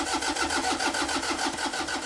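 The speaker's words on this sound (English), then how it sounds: "It's number one priority to get that engine going." An engine on a scrapheap-built machine fires into a steady, loud, rhythmic chugging, each beat evenly spaced, heard alone and close up.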